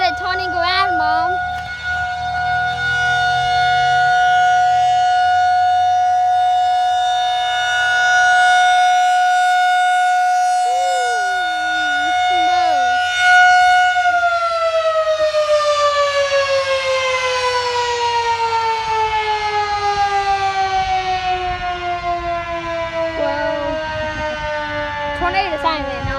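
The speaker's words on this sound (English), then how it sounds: "Tornado siren went off for 1 minute." An outdoor tornado siren wails loudly on a sustained, slightly wavering tone, then winds down in a long falling glide near the end, with brief voices underneath.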